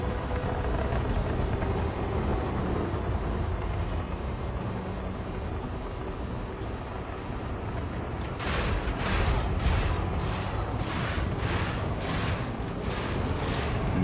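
A spaceship's top turret firing in Elite Dangerous: after a dense rumbling engine roar, a rapid regular burst of sharp shots begins midway, pulsing loud and close over the continuing drone.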